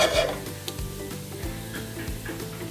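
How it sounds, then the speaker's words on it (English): Steady crackling sizzle of cumin seeds frying in hot oil, continuous and close, with faint clinks of a utensil stirring in the pan. "cumin seeds are sizzling nicely"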